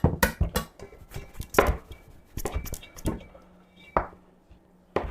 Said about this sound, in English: You do the shaken, and I'll cut this butter.